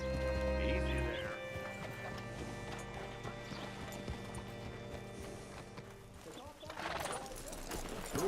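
Hooves clip-clop steadily close by while a horse snorts and whinnies in Red Dead Redemption 2, with music and a voice speaking over them.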